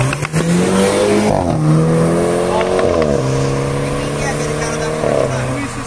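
A turbocharged car revving hard at a street car meet, its engine climbing and dropping in loud repeated surges and gear changes, close by, with people shouting over it.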